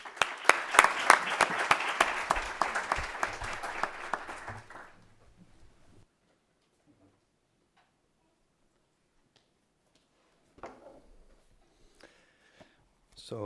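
An audience at an evening book discussion applauds to welcome the speakers, with dense, lively clapping for about five seconds that then dies away into near silence, broken by a few faint knocks and rustles.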